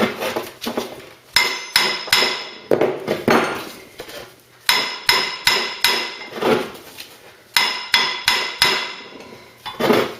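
Hammer blows ring out on the brake disc of a Ford Cortina, sharp metallic strikes falling in quick bursts of three to five with short pauses between, close and loud.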